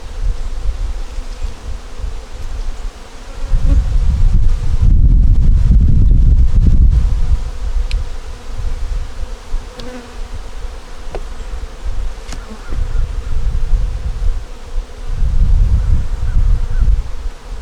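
Honey bees at an open hive with frames of brood, eggs and honey drone loudly and continuously up close, the buzzing swelling and fading in waves.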